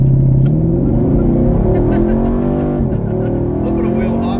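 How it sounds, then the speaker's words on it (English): A 2022 Chevrolet Camaro SS 1LE with automatic transmission launches hard under launch control, its V8 roaring loud and close as the revs climb steeply through quick upshifts. "All right, we're gonna try launch control here."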